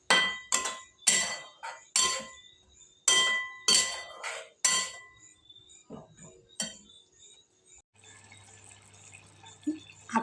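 Spoon clinking and scraping against a pan while stirring sev tamatar sabji, a tomato curry with sev, in a rhythmic series of sharp close metallic knocks, then quieter scraping with a low hum near the end.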